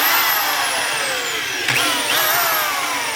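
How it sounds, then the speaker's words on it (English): A plug-in power drill with a countersink bit whines steadily at high speed, its pitch sliding slowly downward, with a brief bump in load partway through as the bit bites. "I'm using a countersink bit, and I have it in this plug-in power drill"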